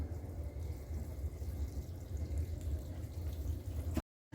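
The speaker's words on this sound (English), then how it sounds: "Final step is to water your tower." Compost tea poured to water a vertical grow tower in a greenhouse, a soft steady trickle and splash of liquid running through, low and continuous before stopping abruptly.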